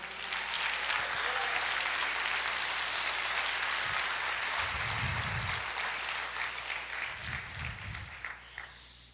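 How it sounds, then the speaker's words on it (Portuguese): A church congregation applauds during a sermon, sustained clapping that holds steady and fairly distant, with low thumps breaking through twice before it thins out near the end. "Você pode aplaudir o Senhor."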